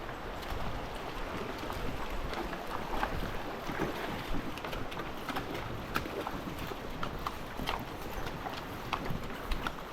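A horse's hooves clip-clop in an irregular, fairly faint rhythm, mixed with steady wind noise on the microphone and outdoor rumble.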